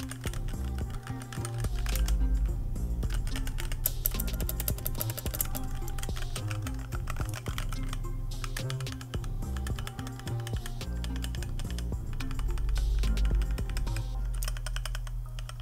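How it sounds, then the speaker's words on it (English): Continuous fast typing on a computer keyboard fitted with HyperX Pudding double-shot PBT keycaps, a dense stream of crisp close-up key clicks with occasional louder clacks and no talk. "let's test out like the typing, the clicking sound."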